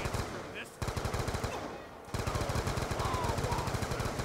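Rapid rhythmic bursts of FN Five-seven pistol fire in Black Ops 2 Zombies, steady repeated shots in two long strings with a short pause between, under game sounds.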